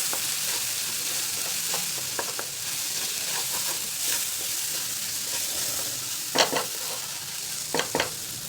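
Tomato and onion sauté in a pan with a soft continuous sizzle, and a few brief sharp spatula clacks stand out near the end, with no voices.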